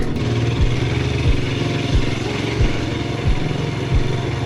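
A vehicle engine grinds up a steep hill in first gear on a Tuscan village road, a loud steady drone with regular thumps roughly every two-thirds of a second.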